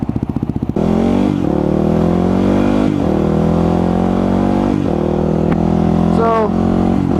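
A Suzuki DRZ motorcycle being ridden gives a steady, loud engine drone with shifting pitch and small revs, starting after a brief idle-like pulsing; the sound is close and continuous.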